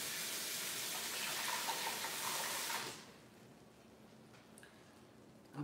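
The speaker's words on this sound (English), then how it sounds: "rinse my fork off right quick" A fork rinsed under a running kitchen tap: a steady, fairly loud splashing rush of water for about three seconds, then the flow stops, leaving quiet room tone.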